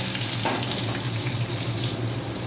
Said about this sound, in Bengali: তেলটা গরম হয়ে গেছে এরপরে একটু আলুগুলোকে ভাপিয়ে নিয়েছিলাম আর সেইগুলো আমি তেলে ছেড়ে দিলাম